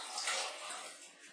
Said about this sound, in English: I'm going to now add the water